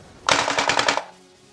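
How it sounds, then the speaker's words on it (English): Uzi submachine gun firing a short full-auto burst of about eight rapid, loud, closely spaced shots, then cutting off abruptly. "It does suffer from cooldown a little bit when you are shooting it in full auto."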